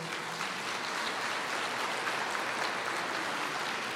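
A church congregation claps together at a sermon, a steady, fairly soft patter of many hands applauding that continues evenly throughout, with no speech over it.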